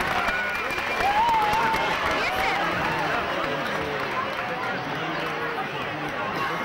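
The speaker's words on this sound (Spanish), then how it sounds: "Un fort aplaudiment per als guanyadors de nascuts en l'any 2012." Audience at a school cross-country race awards ceremony applauding the winners born in 2012, a dense, continuous wash of clapping mixed with crowd chatter and voices, steady and moderately loud throughout.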